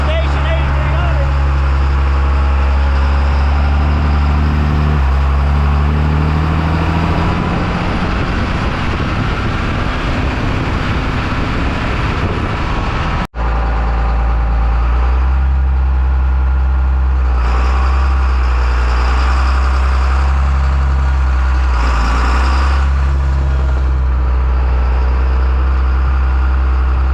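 Engine of an open-station John Deere 8300 tractor running steadily as it unloads a planter off a lowboy trailer in the rain, a loud, continuous low drone with a brief cut partway through.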